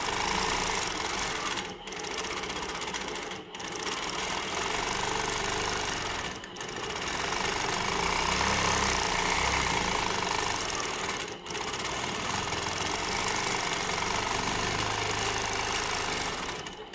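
Sewing machine running almost without pause while feathered wreaths are free-motion quilted, a close, steady mechanical hum broken by a few brief stops.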